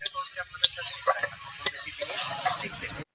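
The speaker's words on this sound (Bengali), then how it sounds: "আমি এর উপরে এখন টমেটো কুচি এভাবে দিয়ে দিয়েছি, আর এই টমেটোটা ঘেঁটে যাক এভাবে।" A utensil stirs chopped tomato into a frying spice masala in a pan, with a few sharp clinks of metal on the pan over a light, crackling sizzle.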